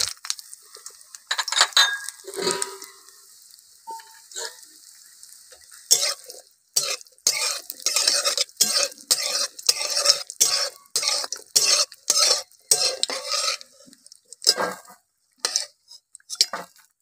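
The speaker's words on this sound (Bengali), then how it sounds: "তেল গরম হয়ে গেছে। এই বড়িটা ভেজে নেব।" Lentil dumplings (bori) fry in hot oil in a home kitchen, with a soft sizzle under a busy run of metal clinks and scraping stirs that come in quick, uneven bursts close by.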